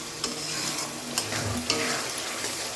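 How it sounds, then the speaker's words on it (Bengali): Spice masala being stir-fried in a pan for a Bengali ghugni, with a steady close sizzle and a few sharp scrapes of the spoon against the metal. "এবার আমি মশলাটাকে খুব সুন্দর করে কষিয়ে নেব।"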